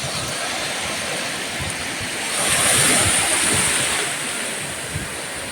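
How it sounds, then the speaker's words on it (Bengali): Small waves wash onto the sand at Mandarmani beach in West Bengal, a steady broadband surf hiss that swells louder midway through as a wave breaks and then settles back, with no voices. "খুব সুন্দর ছোটো ছোটো ঢেউগুলো আসে সাগর সাগর থেকে।"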